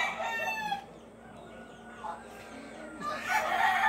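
A rooster crows close by, its call followed by clucking from other chickens in a farmyard, with a faint voice mixed in low behind.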